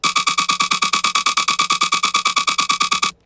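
Main synth bass from a hybrid trap remix, played without its rhythm gating, a loud, dense buzzing tone pulsing steadily in quick repeated notes before cutting off abruptly.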